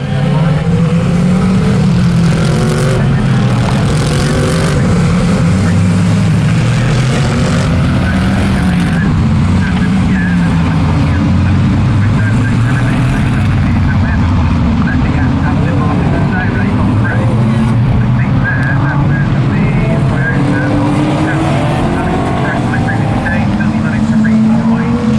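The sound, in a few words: Mercedes AMG and Aston Martin Vantage GT3 race cars at Oulton Park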